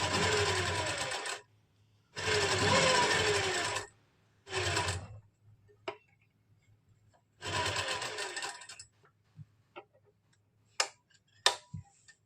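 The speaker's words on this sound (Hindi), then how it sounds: "दूसरी साइड भी हम इसी तरह से लाइनिंग और कुर्ती के फैब्रिक को इन कट्स से मिलाते हुए स्टिच कर लेंगे" Sewing machine stitching suit lining to kurti fabric in bursts of steady whirring, a few seconds each with pauses between, followed by scattered light clicks and taps near the end.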